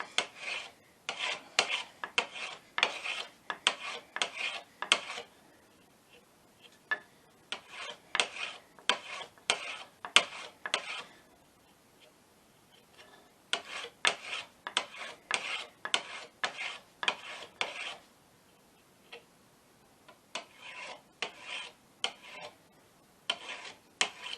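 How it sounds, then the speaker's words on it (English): A steel card scraper is sharpened against a cork-lined holder, giving close, steady rasping strokes in quick rhythmic bursts separated by brief pauses, with no voices. "You do want to be careful when you're sharpening a card scraper because we're creating that nice sharp burr."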